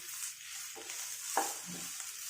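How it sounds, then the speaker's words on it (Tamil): A beetroot stir-fry with ground paste and garlic being stirred in a pan over a high flame, a soft sizzle with a few scraping spoon strokes, close and short, no voices. "ஒரு 5 மினிட்ஸ் ஹை ஃப்ளேம்லேயே வச்சு நல்லா கலந்து கொடுங்க."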